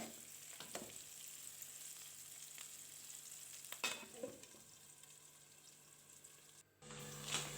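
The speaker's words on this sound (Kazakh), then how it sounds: "үстіне пиязымызды салып, жақсылап қуырып аламыз" Meat and onions fry in oil in a home kitchen pan for lagman, giving a soft, steady sizzle with occasional stirring clatter and no talk.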